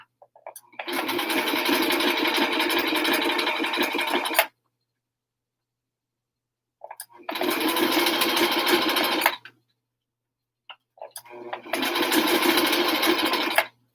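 A sewing machine stitches elastic onto fabric for a helmet cover in three loud, steady bursts, each running a few seconds, separated by silent pauses.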